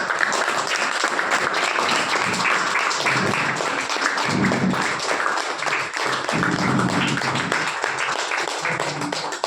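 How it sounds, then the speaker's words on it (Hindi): Loud, dense applause from a gathered crowd, steady clapping sustained throughout at close range with faint voices mixed in. "जोर से ताली होना"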